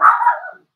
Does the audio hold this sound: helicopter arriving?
no